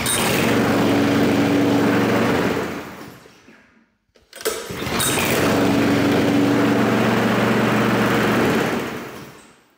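Fieldmann FZR 5112 petrol lawn mower, 4 kW engine, cut out and restarted cold: a steady loud droning idle, a brief drop to near silence around the four-second mark, then the engine catching again and running evenly.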